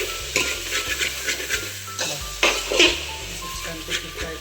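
Ground chili powder frying in hot oil in a pan, with a steady sizzle broken by repeated stirring scrapes and clinks of a spoon, close and moderately loud, alone without talk.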